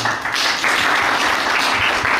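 Audience applause at a health programme evaluation gathering in Lanny Jaya, a dense, steady wash of clapping from many hands, loud and continuous from start to finish.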